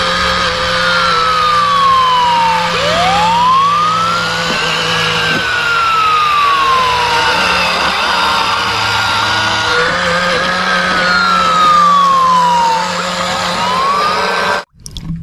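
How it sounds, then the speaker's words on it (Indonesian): A fire truck siren wails in rising and falling sweeps, loud and close, cycling repeatedly over a low engine rumble before an abrupt cutoff. "Mobil pemadam kebakaran."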